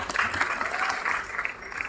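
Steady applause from an audience at a Vestige team gathering, continuous and moderately loud, with no distinct voices over it.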